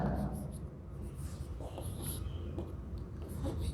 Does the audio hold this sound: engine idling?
no